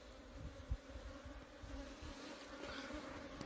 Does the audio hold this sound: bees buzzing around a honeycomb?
yes